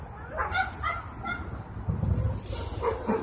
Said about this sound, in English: Barking sounds coming from these apartments over here.